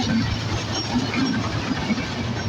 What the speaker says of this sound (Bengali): রানীনগরে আমাদের ট্রেন নীলসাগর এক্সপ্রেসকে দাঁড় করা, আরও একটি ট্রেন চলে যাচ্ছে